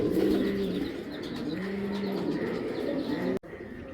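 Show pigeons coo steadily at close range, a continuous rolling, throaty murmur with repeated swelling phrases, ending with a sharp knock and brief dip.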